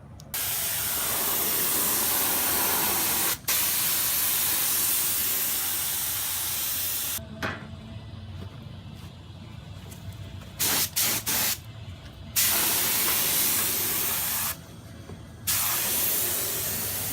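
Spray gun applying epoxy primer to a sandblasted car panel: a loud, continuous close hiss in long passes, broken by brief pauses and a few short gaps between strokes.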